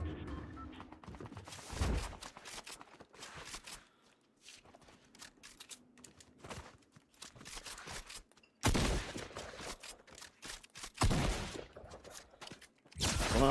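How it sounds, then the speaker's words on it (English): Another player's gunfire in a Fortnite Zero Build match, heard as scattered shots and rapid bursts with footsteps between them, growing into loud, dense volleys near the end. "Someone else is shooting me."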